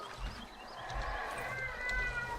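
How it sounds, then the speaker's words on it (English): A pet cat in the survival game Dysmantle meows in a drawn-out, rising call over a low rumbling game soundscape, fairly clear and alone. "Meow yourself, noisy."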